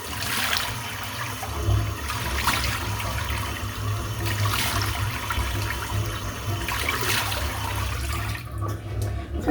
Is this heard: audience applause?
no